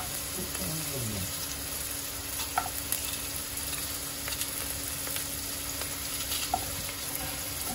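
Food fries in a pan with a steady sizzle as a utensil stirs it with intermittent scraping and knocks, and a faint background hum runs throughout.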